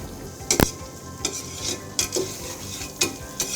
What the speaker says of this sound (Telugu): లైట్గా వేడైన తర్వాత మనము ఆనియన్స్ కట్ చేసుకున్న సన్నగా ఆనియన్స్ కట్ చేసుకుని ఈ ఆనియన్స్ వేసుకుంటాం అన్నమాట.